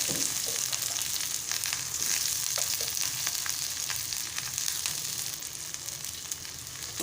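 Green chillies and onion sizzle in hot oil, a continuous dense crackling hiss held close and fairly even throughout, easing slightly toward the end, with occasional faint stirring and no voices.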